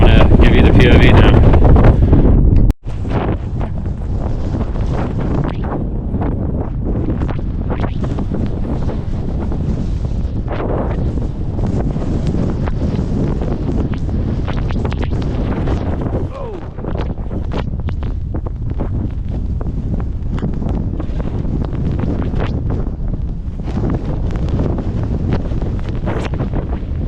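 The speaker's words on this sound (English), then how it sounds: "Extremely windy." Strong wind buffets the microphone in a constant heavy roar, with a brief loud rumble at the start before steady gusting noise continues throughout.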